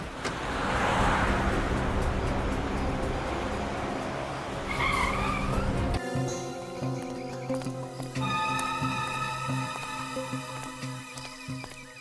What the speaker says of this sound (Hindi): जरा गाड़ी रोको